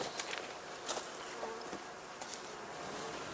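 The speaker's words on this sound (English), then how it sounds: "Now it is time for the cleansing flight, during which the bees rid themselves of the excreta from their winter feed." Honey bees from heather skep hives buzz on their spring cleansing flight, a dense continuous hum from many insects with brief louder passes as individual bees fly close by.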